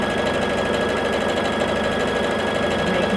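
A sewing machine stitches a 1/4 inch quilt seam in jelly roll fabric with a continuous, close, rapid mechanical chatter and hum at an even pace throughout.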